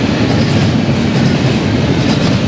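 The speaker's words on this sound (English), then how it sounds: "That train's on the other side." A train rolls past close by, a loud, dense rumble with a steady clickety-clack of wheels on rails that fills the whole stretch without pause.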